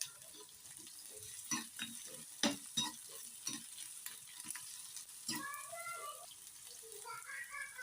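Sliced shallots and green chilies fry in oil for a pumpkin-leaf tempering, with a faint, steady sizzle broken by the scrape and clack of a spoon stirring the pan. Quiet and close.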